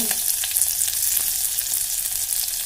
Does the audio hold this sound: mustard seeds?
yes